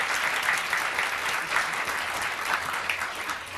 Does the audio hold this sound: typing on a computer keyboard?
no